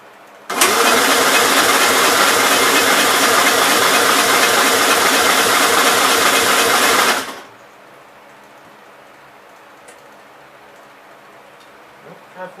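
A 1957 Gravely SR walk-behind tractor engine, just after a top end rebuild, starts suddenly and runs loud and steady at close range for about seven seconds before cutting out to quiet.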